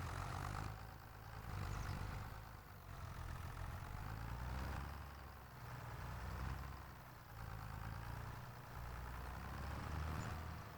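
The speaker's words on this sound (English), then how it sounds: "Backing this trailer up." A tractor in the Farming Simulator 26 video game idles and rumbles steadily while reversing a trailer. The low engine drone runs continuously and close, swelling slightly in places, with no talk.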